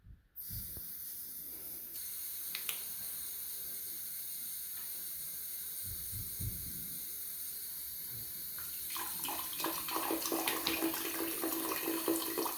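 Water rushes steadily through the pipes of a boiler system with a constant hiss, growing stronger and splashier toward the end, a few faint knocks beneath.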